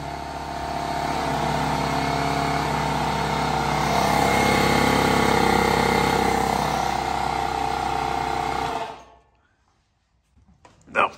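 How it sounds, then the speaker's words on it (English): A shop air compressor powered from an EcoFlow River 2 Pro power station runs with a loud, steady motor drone that strains slightly, then cuts off abruptly and leaves near silence with a brief clunk at the end. "Lastly, I'll use my compressor, which I know is probably not going to work well."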